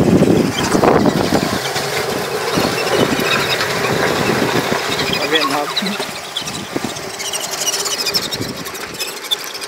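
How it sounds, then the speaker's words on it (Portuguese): Large engine running at a house construction site where concrete is being mixed, a loud rough mechanical drone with rattling and clanking, people talking over it throughout. "Que motor grande."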